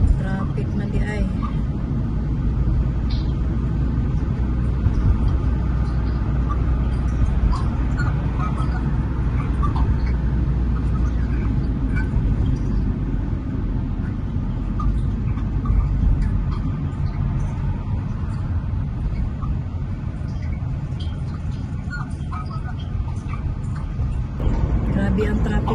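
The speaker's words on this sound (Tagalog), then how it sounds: "Grabe ang traffic, guys." Steady road traffic rumble heard from inside a car stuck in heavy traffic, a continuous low engine and tire drone throughout with a person talking over it.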